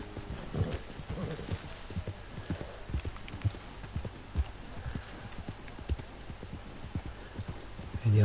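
Horse hooves clip-clop steadily in a Red Dead Redemption 2 game world, a continuous rhythmic trot of close, moderately loud hoof falls running throughout.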